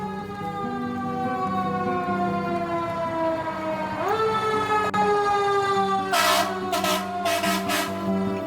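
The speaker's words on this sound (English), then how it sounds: "This part of the city, it's like a lot of sirens." A fire truck siren wails in downtown Atlanta, its rising and falling tone holding steady over city traffic before several loud horn blasts ring out near the end.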